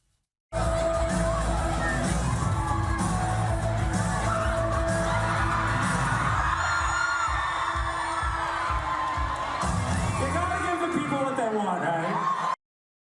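Crowd at a dance party in Boston reacting as an image is shown on screen, with loud music and a heavy pounding beat under yelling, whooping and cheering throughout.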